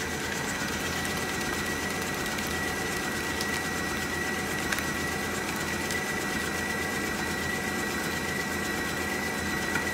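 A Kenwood Cooking Chef stand mixer runs steadily at its lowest speed while mixing marble cake batter, a constant close motor hum and whir with no talk.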